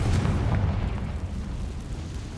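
A Confringo fire spell bursts in Hogwarts Legacy, a loud, close, low booming explosion that hits at once and rumbles down over about two seconds.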